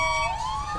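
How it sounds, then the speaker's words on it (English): A fire truck siren in GTA 5 wails loudly and close, its rising tone sweeping upward in a single short burst. "This fire truck is annoying."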